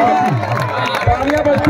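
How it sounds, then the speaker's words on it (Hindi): Crowd applauding and cheering at an award ceremony after a final cricket match, a dense, steady wash of clapping and voices with some chatter mixed in, filling the whole short stretch. "तालियां बजती रहनी चाहिए"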